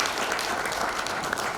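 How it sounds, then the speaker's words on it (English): Audience applause for a chief guest at a hotel industry meeting opposing a housing levy, a dense, steady wash of many hands clapping throughout, fairly loud with no talk over it. "You can give a round of applause."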